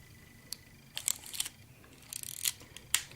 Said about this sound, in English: Wind it on once, and we watch to make sure that the film properly takes up